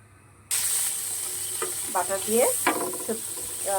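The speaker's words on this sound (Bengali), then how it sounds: "আমি এখানে পনির আর সবজিগুলোকে ফ্রাই করে নিব বাটার দিয়ে" Paneer and vegetables fry in butter, a soft steady sizzle starting abruptly after a brief quiet moment, with intermittent stirring scrapes and clinks close by.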